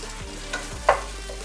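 Pumpkin pieces browning in olive oil in a pan, a soft, low sizzle with a couple of brief scraping stirs close by, fairly quiet and wordless.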